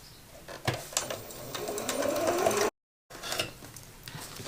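A sewing machine stitches fabric rectangles together with a 3/8 inch seam allowance, running in close, whirring bursts of rapid needle clatter. The sound cuts out abruptly for a moment, then starts up again, and no voices are heard.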